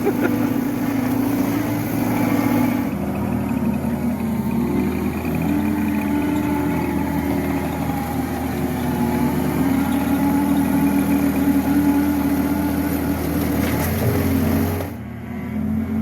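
John Deere skid loader engine revving up as the throttle is raised, a loud, close, steady mechanical drone with a low rumble that holds for most of the time before dropping off near the end.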